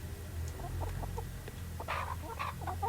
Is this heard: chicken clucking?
yes